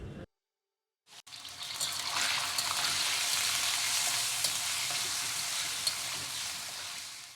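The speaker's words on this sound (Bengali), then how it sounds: "তো চিকেনটাকে প্রথমে আমি হালকা একটু ভেজে নেব। এটাকে হাই হিটেই কিন্তু ভেজে নিতে হবে" Chicken hits a pan on high heat after a brief silence, then a loud, steady hiss of frying carries on evenly, with a few small crackles and no talk.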